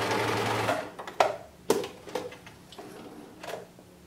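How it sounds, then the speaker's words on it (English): A home sewing machine running a simple straight stitch on scrap fabric, a steady mechanical whir that stops and restarts with several sharp clicks and knocks, close and clear without speech. "So I'm just going to do a simple straight stitch"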